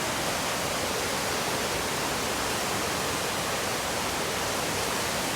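A powerful, continuous roar of a flooded river rushing at Remouchamps, Belgium, dense and steady throughout, churning nearby.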